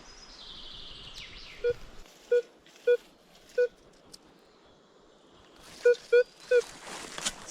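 Short electronic metal detector beeps sound in a loose series of seven or so, clear and close over faint outdoor forest background noise.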